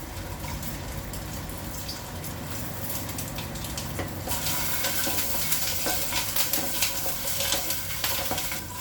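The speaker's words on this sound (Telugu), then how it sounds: "ఇప్పుడు ఇవి నెయ్యిలోన వేపుకుందాం." Food frying in hot ghee for the Vinayaka Chavithi pooja, a steady close sizzle that grows louder and busier halfway through, with occasional stirring.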